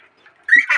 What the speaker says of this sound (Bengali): এটা হচ্ছে একটা সাদা হাঁস।